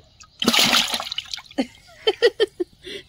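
A large live snakehead fish thrashing in water, one loud close splash burst followed by a string of shorter splashes and drips, with a voice briefly heard alongside.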